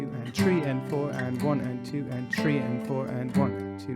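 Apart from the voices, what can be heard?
No everyday noises stand out.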